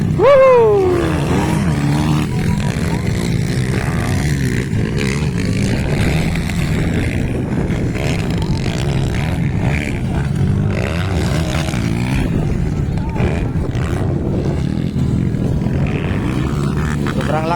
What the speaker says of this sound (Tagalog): Sobrang lakas ng motor ni Klang-Klang abar-abar.